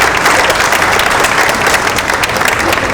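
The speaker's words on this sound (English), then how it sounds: "so please give them a round of applause." Crowd applause at an outdoor Juneteenth flag raising in Cincinnati, a steady, dense wash of many hands clapping close and loud, with no voices over it.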